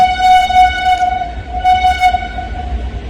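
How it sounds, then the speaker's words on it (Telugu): A loud, close train rumbles past while its horn sounds one sustained, steady blast over the heavy low rolling noise. "లేదంటే చాలా పెద్ద సౌండ్ వస్తుంది ట్రైన్ సౌండ్"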